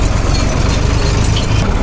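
Tractor engine idling and running steadily while reversing to unload a filled trailer at a coconut-stump clearing site, a deep continuous low rumble with slight knocking, close and loud with no talk.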